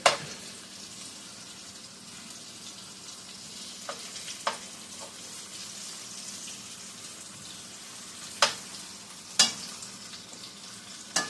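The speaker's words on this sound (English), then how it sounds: "we're going to add our onions back to the same pot. And we get these tender" Onions sautéing in a pot for a creamy chicken and zucchini dish, a steady low sizzle with a few sharp clinks of a utensil against the pot, close and fairly quiet.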